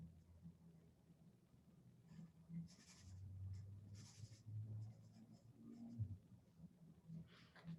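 Sharpie marker strokes drawing and touching up pencil lines on a handmade card, soft intermittent scratchy squeaks in short bursts, close and quiet, with low room hum beneath.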